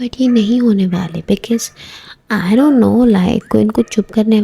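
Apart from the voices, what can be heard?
No distinct noise like a dog, phone or traffic.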